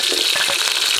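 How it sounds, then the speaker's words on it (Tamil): Shallots tossed into spluttering mustard seeds and fenugreek in hot oil, a loud, dense, close-up sizzle with crackling throughout. "சின்ன வெங்காயம் சேர்த்துக்கலாங்க."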